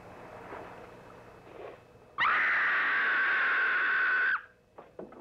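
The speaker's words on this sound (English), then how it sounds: "That was a scream." A long sustained scream from a horror film soundtrack, one loud piercing cry lasting about two seconds over quieter background sound, ending abruptly.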